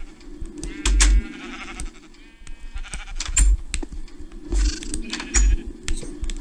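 Sheep bleat in the video game Minecraft, several wavering bleats at moderate volume over a faint clicking, busy game background.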